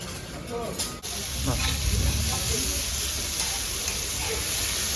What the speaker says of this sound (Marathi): प्रॉन्स लगेच होतात बघा मस्त तडका दिलेला आहे कढीपत्त्याचा